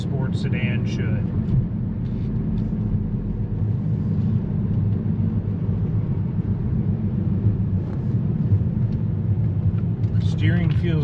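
A 2014 Volkswagen Passat TDI diesel sedan with 154,000 miles cruises along, its low steady engine and road rumble droning throughout under a voice talking inside the cabin.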